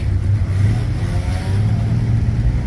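Old vintage cars idle and rev together at a classic car parade in Saint-Pathus, a steady low engine rumble with no talk.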